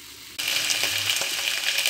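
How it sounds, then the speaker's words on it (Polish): Beer pancakes drop into a hot pan and start frying, a sudden loud sizzle that keeps hissing steadily with a few faint crackles, alone without voices. "Smażymy kolejne placuszki, mięso już jest prawie gotowe."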